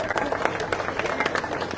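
A crowd at an Armenian political rally claps in a brief, dense patter of applause, with a voice speaking over it.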